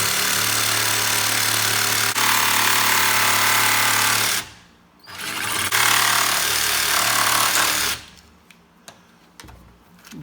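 A power saw cuts a circle in black plastic with a loud, steady buzzing whine, broken by a brief pause, then stops and leaves faint handling noises.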